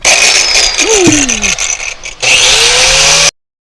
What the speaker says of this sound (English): we got room in here to pass the grinder on this side now